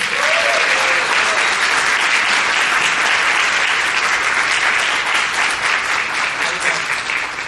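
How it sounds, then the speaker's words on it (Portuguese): Loud, sustained applause from an audience welcoming a guest speaker at a talk event, dense and even clapping that fills the full seven seconds with crowd noise underneath. "Recebam com muito carinho e aplausos, Piscimama!"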